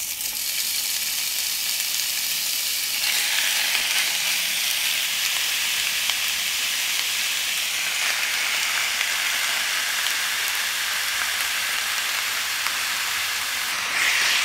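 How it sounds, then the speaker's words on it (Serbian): Meat fries in two to three spoonfuls of hot oil in a deep pan, giving a continuous loud hiss and crackle that stays steady throughout with no talk. "Ulje se zagrejalo i pržim sada meso."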